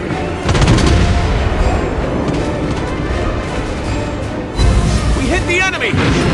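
Heavy cruiser USS Indianapolis fires its naval guns in World of Warships Blitz, a loud, dense wall of rumbling gunfire and booms with game voice callouts over it.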